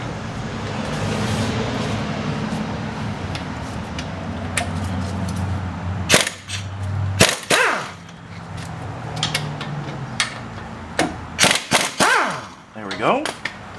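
Caliper bracket bolts being removed from the front brakes of a 2009 Chevy Silverado 1500, with several sharp clanks and bursts of tool noise in the second half over a steady shop hum, plus some talk.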